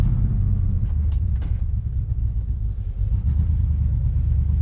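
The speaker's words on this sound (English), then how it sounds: "So I'm driving through a pothole-filled parking lot, and it is not rubbing" A project car with a Terminator X engine setup rolls through a pothole-filled parking lot, giving a low steady engine rumble close by with faint bumps and no talk.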